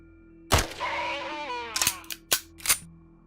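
Scattered gunshots in the game Quasimorph: one sharp crack followed by a descending tonal whine, then three more separate pops spaced apart over a steady low hum.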